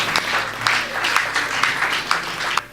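A church congregation at a healing service applauds and cheers for the Lord, with steady massed clapping carrying through the full stretch and rhythmic peaks recurring roughly every half second.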